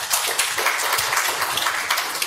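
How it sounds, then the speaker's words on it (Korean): A church congregation claps together in a brief burst of dense, steady applause with no voices over it. "우리의 원수 관계를 해결해 주신 주님께 영광의 박수를 드리겠습니다"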